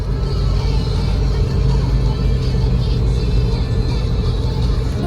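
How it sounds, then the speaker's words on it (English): A small mid-engined, all-wheel-drive Japanese sports car accelerates up an expressway on-ramp, a steady loud engine drone with heavy road and wind rumble heard from inside the cabin. "This expressway on-ramp gave us a chance to unleash all the power that our mid-engined all-wheel drive Japanese sports car had to offer"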